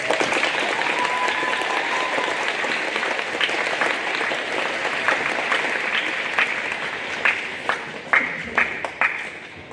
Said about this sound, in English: We give them one more round of applause.